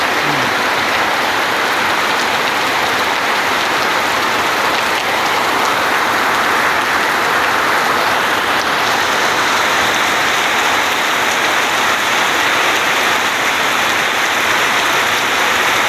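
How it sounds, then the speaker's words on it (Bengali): Heavy rain falling in a dense, continuous roar, loud and unbroken from start to finish with no voices. "সাংঘাতিক বৃষ্টি।"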